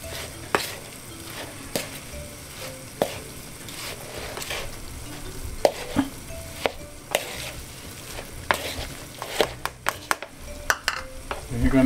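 Beef stroganoff with plenty of paprika being stirred in a pan: a spoon scrapes and knocks in irregular strokes over a steady close sizzle, with occasional sharper clinks against the pan.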